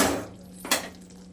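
Spatula working through masala sautéing in oil in a pan for a garlic methi bhaji: a brief metallic scrape, then a single sharp clink against the pan, close and fairly soft.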